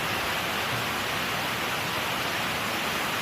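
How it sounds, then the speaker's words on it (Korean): A waterfall rushing through a valley after a typhoon, a loud, dense, unbroken roar of falling water heard from nearby. "아까 그 폭포 소리 들릴까요?"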